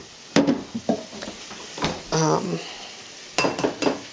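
Peanut butter cookie dough being stirred in a bowl, a few close clinks and scrapes of a utensil against the bowl in short irregular bursts, with brief pauses between.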